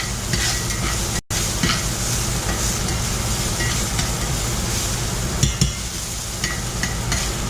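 Garlic browning in a cast iron pan throws off a loud, continuous sizzle under steady stirring, with scraping and clinks up close and one brief drop in sound near the start.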